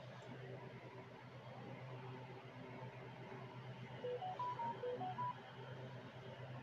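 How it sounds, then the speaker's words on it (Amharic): A short run of electronic phone tones, about eight quick pitched beeps in an uneven sequence, sounds clearly above a steady low hum and background noise. "ወይ ኖቲፊኬሽን ረብሽ"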